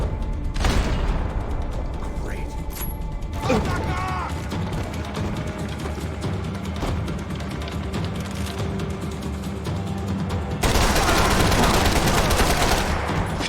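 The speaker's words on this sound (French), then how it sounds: "le mec il me tire dessus alors qu'il est en train de se faire carnarder" Gunfire in the video game Max Payne 3, with repeated shots and bursts of automatic fire amid game effects, mixed under a voice talking and a louder burst near the end.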